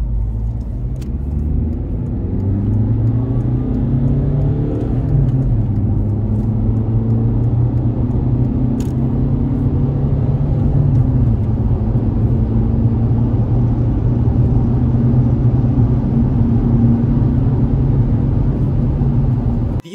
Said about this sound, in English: And now let's see how this car accelerates on the highway.